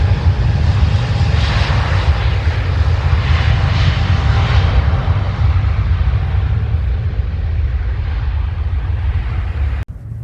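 An airliner passing at London Heathrow Airport produces a loud, sustained jet roar that holds steady for about ten seconds, ending with a sharp click.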